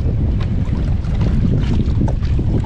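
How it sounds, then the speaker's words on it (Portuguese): Strong wind roars over a rough, choppy sea during kayak fishing for snook, a loud, continuous broadband rush buffeting the microphone with no pauses and no voices. "Apesar do mar tá meio mexido, muito vento."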